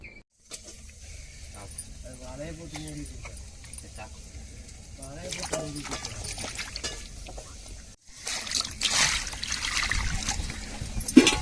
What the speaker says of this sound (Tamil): இப்போ நம்ம காடையை சுத்தம் செஞ்சு எடுத்துக்கிருவோம் நல்லா க்ளீன் பண்ணி எடுத்துக்கிட்டு நம்ம பிரியாணிக்கு ரெடி பண்ணுவோம்